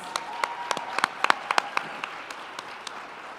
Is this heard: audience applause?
yes